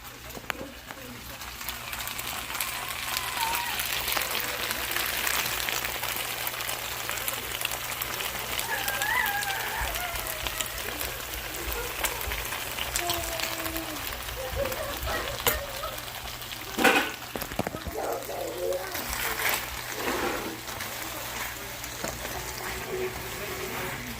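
Meat for an udon dish fries in a hot pan with sauce, a steady close crackling sizzle that runs throughout, joined by a few stirring scrapes and clatters while a person talks over it.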